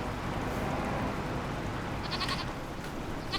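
Goats bleat in the farming game Farming Simulator 25, faint, short calls near the end that sit under a steady, dense wash of background game noise.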